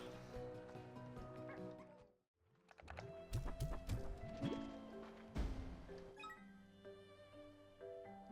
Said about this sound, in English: Ah, sea hens.